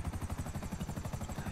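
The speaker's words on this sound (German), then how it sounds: "ist ja ein russischer Helikopter" A Russian helicopter in GTA V Online gives off a steady, rapid rotor thumping, moderately loud and continuous.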